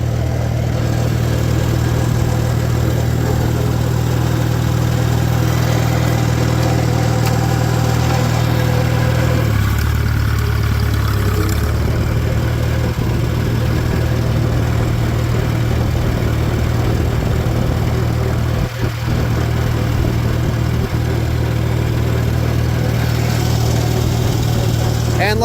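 A 1949 Farmall Super AV high-clearance tractor engine idles steadily and loudly close by, its low rhythmic rumble holding throughout with a brief dip in pitch midway.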